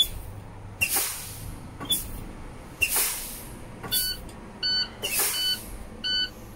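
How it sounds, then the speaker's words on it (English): A truck's low air pressure warning alarm sounds as the service brake pedal is pumped; several short bursts of hissing air release come first, then a string of evenly spaced, moderately loud electronic beeps. "I will pump the service brake pedal until the alarm and the light come on."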